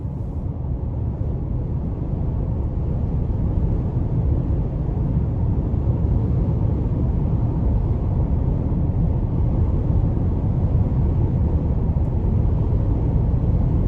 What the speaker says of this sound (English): really nice ride coming down this stretch of the interstate